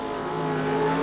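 Race cars roar along the home straightaway during a short-track race, a steady loud engine drone with layered humming tones, heard in the distance without voices.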